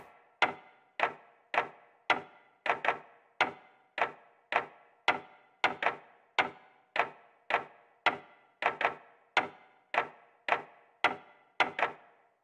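Processed big clock ticking samples, built from clock recordings for an instrumental, sound as loud, close, evenly spaced hollow clunks about every half second, with an occasional doubled hit and short ringing tails, alone without talk.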